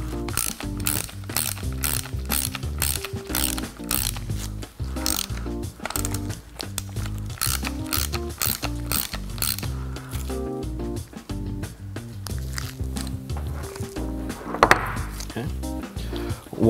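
A hand ratchet tightens the foot nuts on a bicycle suspension fork, clicking in quick rhythmic bursts of pawl ratcheting, close and clear, with short pauses and a few knocks between strokes.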